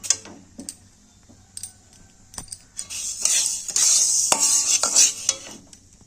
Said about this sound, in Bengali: এখানে মুগের ডালটাকে আমি ভেজে নেব ভালো করে লাল লাল করে